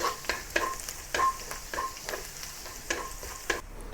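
Ginger and garlic fry in a hot wok, a steady close sizzle broken by repeated scraping stirs of the spatula at an uneven rhythm, with no talking.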